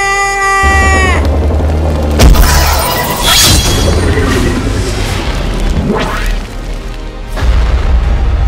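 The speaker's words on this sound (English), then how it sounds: "There's a magnanimous explosion!" Booming explosions from a launcher in an animal battle video game where farm and wild animals fight ice zombies in a forest. Two loud blasts sound under steady game music, with bleating-like tones early on.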